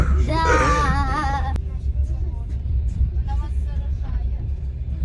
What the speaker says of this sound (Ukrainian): Трошки вже шумно стало в вагоні через те, що доста дітей їде.